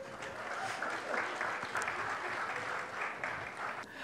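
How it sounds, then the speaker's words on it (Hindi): An audience at a live comedy show breaks into sustained, even applause, a dense crowd of clapping hands that holds steady for several seconds before easing slightly. "हो जाए, तालियां हो जाए।"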